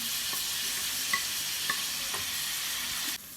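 Frozen mixed vegetables, beans and carrots, stir-fry in a pan for chicken noodles, giving a soft, steady sizzle with a few light stirring taps before it cuts off abruptly near the end.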